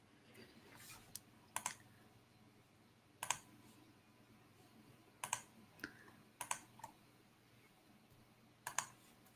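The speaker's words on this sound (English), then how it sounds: "So Rachel, if you want to type in the next turn" Sparse computer keyboard keystrokes during a collaborative coding session, a few separate clicks and short bursts spread out with pauses, quiet against a faint background hum.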